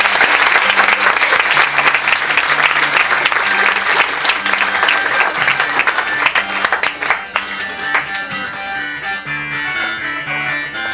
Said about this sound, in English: So we have a rousing smatter of applause for our wonderful poets for the evening.